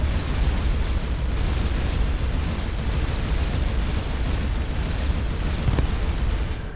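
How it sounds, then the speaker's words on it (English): A constant stream of plasma bolts fires from the Venerator spaceship's guns in Starcom: Unknown Space, a dense, unbroken barrage of loud blasting bursts with no pauses. "we just have a constant stream of plasma bolts screaming from the Venerator"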